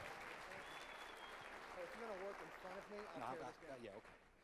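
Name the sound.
audience applause for Reggie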